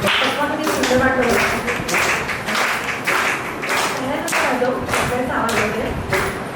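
Women at a Mangalagaur celebration clap in a steady rhythm, close and loud, with singing and voices underneath.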